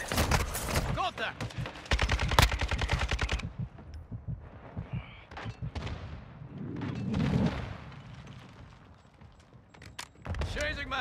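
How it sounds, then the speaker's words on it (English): Gunfire and blasts from a mortar strike in a Call of Duty Modern Warfare II Ground War match, with dense bursts of automatic fire early and late and heavy rumbling impacts in the middle, mixed with radio-style voice callouts. "Friendly mortar strike on the way."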